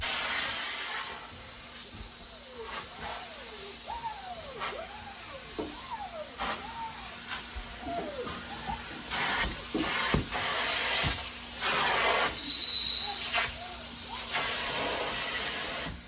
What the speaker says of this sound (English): the hot water extraction or steam cleaning, the rinsing away of the suspended soils